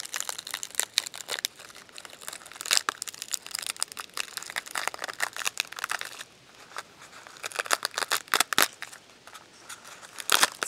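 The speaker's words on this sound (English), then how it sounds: "So you just crunch it until you can kind of like start peeling off the skin like this" A harvested seed pod's dry skin is crushed and peeled by hand, producing close, dense crinkling and crackling crunches in irregular bursts, with a short quieter pause partway through and no speech.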